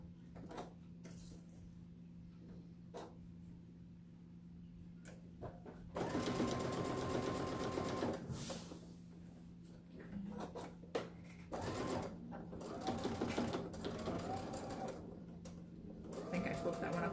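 A sewing machine runs in short stitching bursts, one longer run and several brief ones, with a low steady hum and light clicks between.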